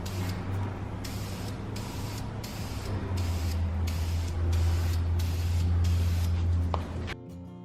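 Spray primer hissing from a can onto metal parts of an antique Cosco step stool, in a run of repeated bursts of roughly half a second each, loud and close, ending with a clatter.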